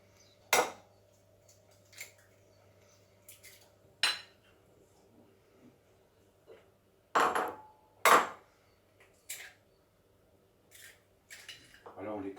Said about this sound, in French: Alors on les casse à part, des fois qu'il y ait un œuf qui ne soit pas tout à fait frais